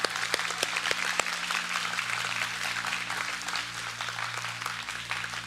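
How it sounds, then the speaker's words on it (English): An audience at a graduation ceremony applauds some sixty graduating seniors, steady sustained clapping with sharp individual claps standing out over a low constant hum. "can we give them a round of applause right now?"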